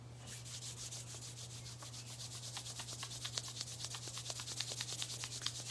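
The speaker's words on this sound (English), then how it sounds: "And then we'll rub our hands together." Palms rubbing briskly together in a quiet room, a soft continuous swishing friction that grows livelier and more rhythmic toward the end, over a steady low electrical hum.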